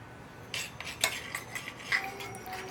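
A utensil scrapes and taps around a frying pan while spreading oil, giving light metallic clinks and brief scraping strokes at an irregular pace, close and moderately loud, with no voices.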